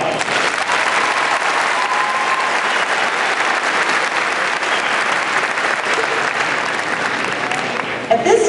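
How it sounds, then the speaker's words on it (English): Sustained applause from a large graduation ceremony crowd fills the hall for about eight seconds at a steady, dense level, with a brief rise near the end. "Give them another round of applause."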